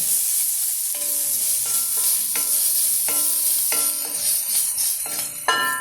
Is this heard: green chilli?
yes